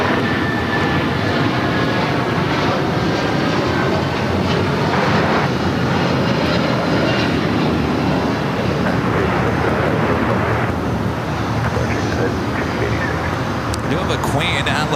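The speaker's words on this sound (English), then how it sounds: "We got that United 757 now taking off." A United Boeing 757 taking off at LAX roars loud and continuous, a broad jet-engine rush that stays strong throughout, with people talking underneath it.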